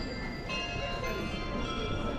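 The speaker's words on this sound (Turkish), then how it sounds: "Çanlar kimin için çalıyor?" Church bells ring continuously in a European town square, their tones layered over crowd chatter and street noise close by.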